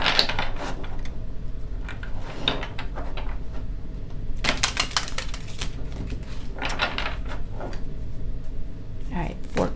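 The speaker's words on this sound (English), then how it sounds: "All right, Libra, let's shuffle your cards." Tarot cards being shuffled by hand in a series of soft, clattering riffles and slaps, with bursts of papery card noise recurring across the stretch at close range.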